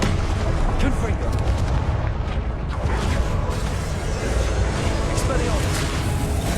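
Confringo spell blasts in the Hogwarts Legacy video game, a dense, continuous barrage of booming explosive impacts and crackling bursts layered over game sound, loud and unbroken.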